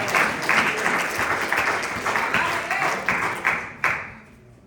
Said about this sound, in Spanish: Regálenos con los palmas al Señor.